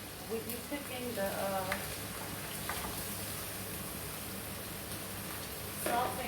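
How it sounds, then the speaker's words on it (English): Cabbage sautéing in an oiled pan makes a soft, steady sizzle at moderate distance, with a few light scrapes and brief clatters, plus a louder stir near the end. "sauteing the cabbage,"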